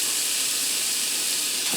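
Lean ground beef sizzles in a preheated skillet, giving a steady, bright hiss at moderate loudness with no talk over it.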